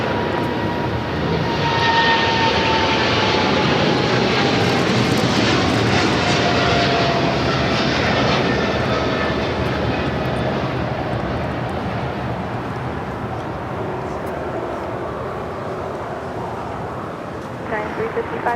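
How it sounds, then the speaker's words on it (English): Loud, sustained engine roar of an MSC Air Cargo Boeing 777 freighter at Los Angeles International Airport, swelling early and fading slowly as it passes, with a voice talking over it. "MSC Air Cargo operated by Alice Air, Flight 355, heading to Hong Kong."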